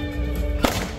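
A single sharp crack rings out over a steady low hum, with a brief ringing tail as it fades.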